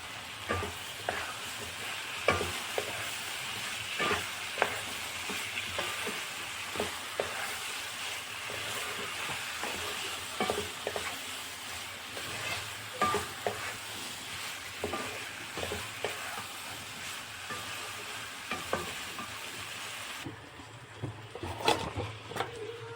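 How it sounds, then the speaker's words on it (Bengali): Chopped bottle gourd and potato sizzle steadily in hot oil in a pan, with frequent scraping stirs and clinks of a spatula throughout, fairly quiet and close, with no voices. "এবার দিলাম লাউ আলু ভাজা"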